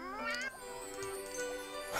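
Several kittens in The Sims meow in overlapping, high-pitched cries, loud and close, with a faint tinkling chime behind them.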